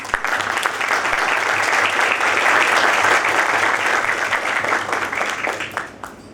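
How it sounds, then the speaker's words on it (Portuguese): Sustained audience applause fills a hall at an energy industry conference in Brazil, steady and dense for about six seconds before tapering off at the end. "Eu acho que a plateia concorda comigo e peço uma salva de palmas."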